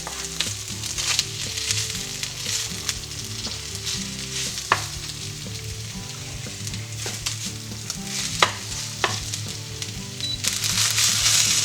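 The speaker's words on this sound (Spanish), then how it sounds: "antes de que se queme ponemos dentro la cebolleta" Spring onion sizzles in a hot frying pan for a cabbage, mushroom and seitan dish, a steady close crackling hiss with occasional sharper pops and stirring scrapes throughout, no voices.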